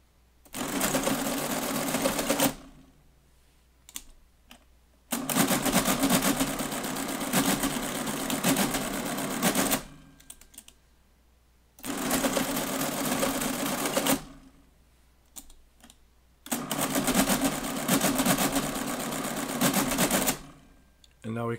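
An STW10 mechanical adding machine works through subtotals in four loud bursts of rapid clattering and whirring, separated by quiet pauses with a few soft clicks.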